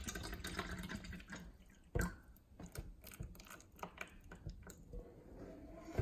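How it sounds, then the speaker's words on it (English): Water pours into a container for a pH and TDS test of bottled purified water, with a quiet close trickle and splash marked by a few louder drips and knocks, no voices. "Let's pour some water in."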